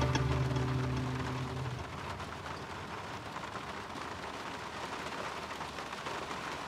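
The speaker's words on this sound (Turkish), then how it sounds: "Çok yağmur yağıyor." Heavy rain pours down in a continuous dense hiss of drops on surfaces, loud and unbroken, with a low tonal hum fading out during the first two seconds.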